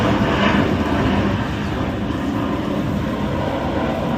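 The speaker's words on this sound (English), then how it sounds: "Sorry, there's a jet." A jet flying overhead makes a steady, fairly loud whooshing rumble that peaks early and then slowly fades, heard outdoors near a car repair job with no talking.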